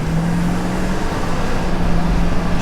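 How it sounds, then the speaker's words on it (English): A turbocharged 2000 Hummer H1 diesel truck accelerates hard with its roof off, giving a loud, steady engine drone with a whistling tone on top that rises and then dips. Road noise fills the background and no one speaks. "You can hear that turbo."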